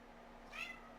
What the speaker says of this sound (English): I'm gonna let my cat out. Cat's yapping.